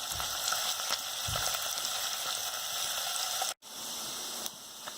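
Paneer pieces frying on a hot tawa for Mutter Paneer, a close, steady sizzle and crackle with a few soft stirring clatters and a brief dropout near the end.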